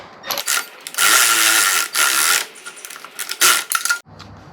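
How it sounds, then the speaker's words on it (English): Ratchet wrench snugging the header bolts of a titanium exhaust on a 2008–2020 second-generation Hayabusa motorcycle, bursts of rapid metallic clicking, close and fairly loud, separated by short pauses. "I'm gonna snug this up and then go tighten up the header bolts."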